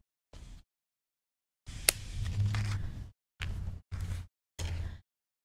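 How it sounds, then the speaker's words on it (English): Small craft scissors cutting card along a curve for a Christmas snowglobe card, a few short crisp snips and a longer rustling cut, close and quiet with gaps between. "Just going to take our little scissors and then just trim that right with that curve."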